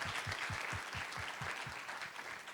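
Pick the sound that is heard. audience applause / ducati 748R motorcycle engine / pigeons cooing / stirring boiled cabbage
audience applause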